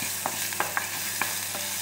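Ginger pieces frying in a pan with a constant hiss under several sharp, evenly spaced spatula scrapes and taps as they are stirred.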